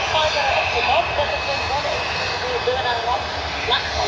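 A DHL cargo jet out of Leipzig drones with a steady, moderate engine roar across a few seconds while a voice talks over it.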